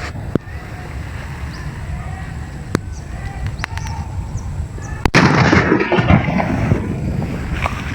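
A few small pops over outdoor ambience, then a sudden loud blast from a garlic-shaped firecracker followed by a roar of crackling, rumbling noise that lingers to the end.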